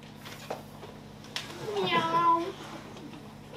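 A house cat meows in a French-language scene, the drawn-out cry rising clearly in the middle of the clip while people talk before and around it.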